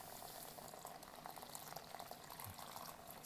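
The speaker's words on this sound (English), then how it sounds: "I'm going to go ahead and dump this water in here." Water poured into a bag of a 1970s U.S. military LRP ration, a soft, continuous bubbling trickle of liquid, faint and close, with no talk.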